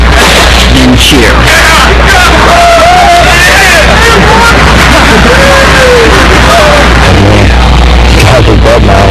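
A crowd cheers loudly, a dense roar of whoops, yells and babbling voices that carries on without pause.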